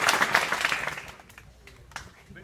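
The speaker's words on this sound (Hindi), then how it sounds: "एक और ताली बजाएंगे" An audience of students at a college gathering bursts into applause, loud at first and then thinning into scattered claps as it fades over a couple of seconds.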